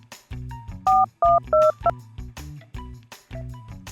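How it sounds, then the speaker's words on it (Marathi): A quick series of phone keypad beeps, five or six short dialing tones in a row, close and clear over soft background music. "दुसऱ्या क्षणी त्याने मोबाईलवर सूर्याला कॉल लावला"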